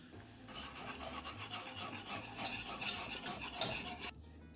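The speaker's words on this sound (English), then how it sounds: "So we are going to put into our syrup some pumpkin puree." Pumpkin puree being stirred into homemade sugar-free syrup, soft rasping and rubbing strokes of a utensil in a pot with a few sharper scrapes, fairly quiet and without talk.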